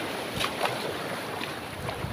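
Big sea waves surge and crash around a boat out on the open water, a steady roar of surf mixed with wind buffeting the microphone, loud and continuous with no clear breaks.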